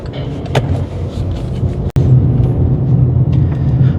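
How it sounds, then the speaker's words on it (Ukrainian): A car pulls away in first gear during a driving test at a service-centre test ground, its engine a steady close low drone with one brief click partway through and no voices. "включаємо показчик повороту, перша передачка і поїхали"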